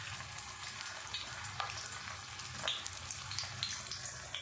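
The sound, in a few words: aloo matar tikki shallow frying in oil on a tawa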